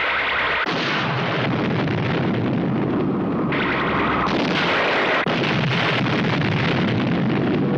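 Three Eagle spacecraft are blown apart in a run of loud, rumbling explosions and bursts, a dense continuous roar with sharp onsets and no voices.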